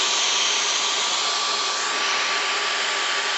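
Dyson V15 Detect cordless vacuum cleaner running at close range, a loud, steady high-pitched motor whine with constant airflow rush and no break throughout.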